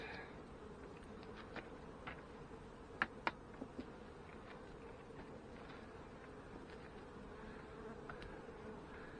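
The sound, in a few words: honey bees in a nine-frame hive super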